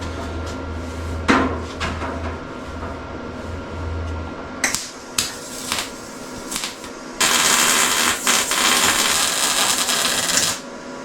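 Hammer blows on the thin sheet-metal body panel of a Mini F150 build, sharp metallic strikes spaced irregularly, followed by a louder stretch of harsh grinding-like metal noise, with no talking.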